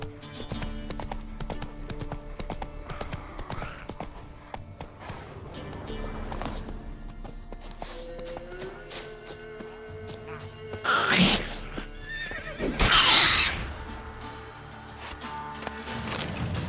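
A horse's hooves clip-clop steadily at a run in The Witcher 3: Wild Hunt, with brief louder bursts of whinnying and snorting partway through over quiet game ambience.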